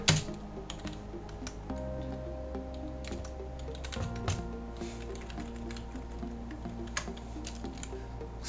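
Commands typed on a computer keyboard during a Raspberry Pi session, steady close clicks of keystrokes running throughout over a constant low electrical hum.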